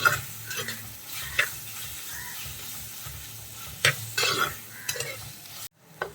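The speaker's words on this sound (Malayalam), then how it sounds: "ഈ തക്കാളിയൊക്കെ നന്നായിട്ടൊന്ന് ഉടഞ്ഞു വരുന്നത് വരെ നമുക്കൊന്ന് ഇളക്കി കൊടുക്കാം" Tomatoes for a Kerala choora fish curry sizzle in a pan while a spoon stirs them, a soft continuous fry broken by a few sharp scrapes and clinks of the utensil against the pan, close and without talk.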